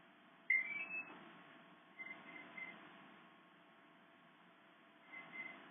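Quadcopter ESCs emit short electronic beep tones during throttle calibration, a few faint separate chirps spaced over several seconds against a quiet hum.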